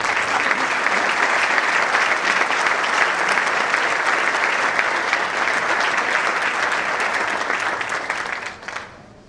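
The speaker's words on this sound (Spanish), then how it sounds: "Démosle la bienvenida con un fuerte aplauso" A conference audience breaks into loud, sustained applause welcoming a speaker at an education talk, dense clapping holding steady for several seconds before tapering off at the end.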